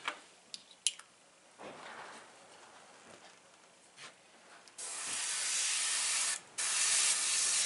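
Airbrush spraying black paint onto a T-shirt, a steady close hiss that starts and stops in short bursts, then runs in a long continuous spray with one brief break.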